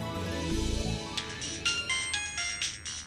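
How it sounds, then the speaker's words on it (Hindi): A phone's ringtone plays in a Hindi TV drama household scene, a steady melodic electronic tune with repeating tonal notes that continues throughout, fairly loud and close, with no talking over it. "उठाइए, किसका फोन है?"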